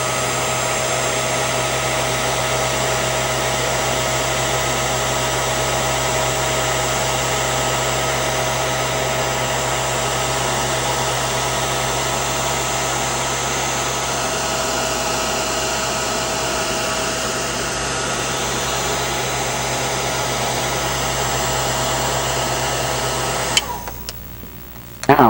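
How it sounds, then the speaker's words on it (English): A heat gun blasts steadily, shrinking heat shrink tubing over fan motor wires during a Victron fan motor wiring repair; a loud, constant airy roar with a motor hum runs close and unbroken before cutting off near the end. "now I'm going to put the heat shrink tubing on. Now I've got the tubing in about as far as it'll go, so I'm going to use the heat gun."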